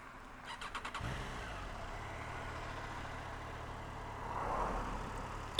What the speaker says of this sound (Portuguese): Vamos ligar a moto aqui.